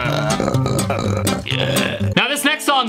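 A burp within a recorded pop song, drawn out and tonal enough to pass for a synthesizer, sounding over the music near the end.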